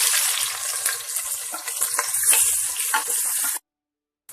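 Sliced big onions frying in a pan, a loud, bright, hissing sizzle close by with small crackles, continuing steadily and then cutting off abruptly into silence.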